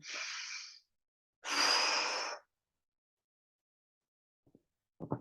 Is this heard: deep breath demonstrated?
yes